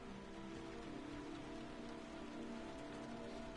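Heavy rain hisses in a dense, unbroken wash in a video game, constant and even in loudness from start to end, with no voices.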